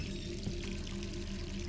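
Running water from a tap in a bathroom in the Resident Evil 3 Remake video game, a quiet, steady rushing flow that continues evenly without pause.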